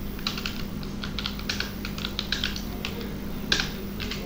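Computer keyboard keys are tapped in quick irregular bursts while setting up keyboard controls for the cricket game Cricket 19, close and distinct over a low steady hum.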